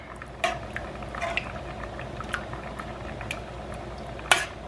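A spoon stirs stuffed pepper mixture with tomato sauce in a pot, giving soft, wet scraping and a few light clinks against the side, including one sharper knock near the end, all quiet and close with no talk.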